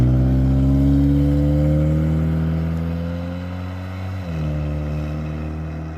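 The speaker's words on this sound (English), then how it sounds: "There she goes on her first drive of the year." A project car pulls away on its first drive of the year, its engine droning loudly and steadily at first, then gradually fading as it moves off, with a brief shift in pitch near the end.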